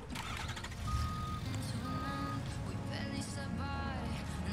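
A truck drives in Fortnite's UEFN editor, its engine rumbling steadily alongside repeated reversing beeps and tonal electronic blips, with a dense layer of game sound throughout.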